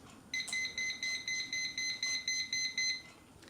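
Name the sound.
liquid level indicator beeping as cup fills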